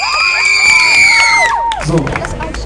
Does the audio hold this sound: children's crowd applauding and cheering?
yes